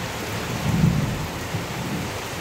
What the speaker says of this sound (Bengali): ও বাবা, ভালো বৃষ্টি আরম্ভ হয়ে গেছে।